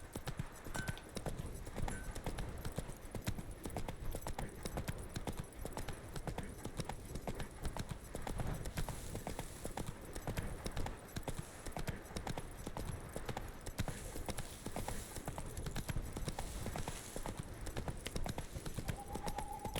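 Hooves trot in The Witcher 3, a dense, continuous clatter of fairly loud hoofbeats that keeps going for the whole stretch with a faint background hum.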